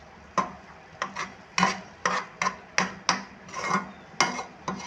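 Repeated scraping strokes of a spoon stirring dry powder into a carrot and semolina barfi mixture in a pan, about a dozen quick, close, rhythmic scrapes.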